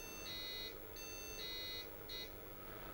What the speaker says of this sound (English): maybe that should be counted as 4 high-low beeps and 1 short